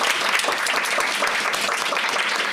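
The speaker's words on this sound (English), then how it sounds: "Give a massive applause." Dense, steady applause from a live audience at the end of a Be Our Guest stage show at UKGE, filling the whole stretch at moderate loudness with no voices standing out.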